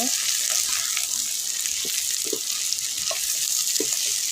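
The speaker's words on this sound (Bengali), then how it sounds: "ক্যাপসিকাম অ্যাড করে দিব ছেড়ে আবার একটু নেড়ে মিশিয়ে নেব" Capsicum being stirred into vegetables frying in a pan, a steady broad sizzle with a few soft scrapes of the spatula throughout, close and continuous.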